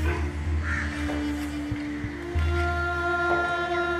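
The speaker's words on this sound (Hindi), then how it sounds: "यहाँ पे चिड़ियों का आना जाना लगा रहता है।" Crows caw in the open air at Moth ki Masjid, a mosque in Delhi, a few rough calls at moderate distance over a steady hum and faint background rumble.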